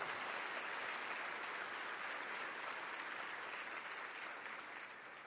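An audience applauds a harmonica performance of Bach's Minuet in G, giving a continuous, even wash of many hands clapping that fades slightly toward the end.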